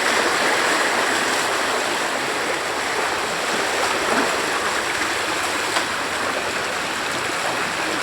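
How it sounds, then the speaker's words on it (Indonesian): The flooded Kali Kapuk river rushing fast toward a bridge, a loud, continuous roar of turbulent water with no break throughout. "Kencang juga ini airnya, ini yang datang sininya."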